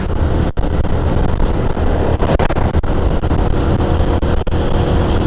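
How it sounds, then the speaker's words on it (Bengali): Line of motorbikes riding in procession on the road from Kolkata to Santiniketan, a loud continuous engine drone and wind rush close to the mic, with brief dips as gusts buffet it. "জাস্ট দেখো প্রসেশন, লাইন অফ বাইকস"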